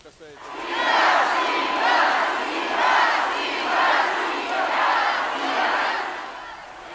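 A large crowd at a concert on Moscow's Red Square cheers and chants in rhythmic, swelling bursts, roughly five waves over several seconds, loud and massed with no single voice standing out.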